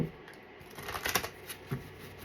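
Tarot cards being shuffled by hand, a soft papery riffle with a few sharper flicks and taps, close and quiet with no talking over it.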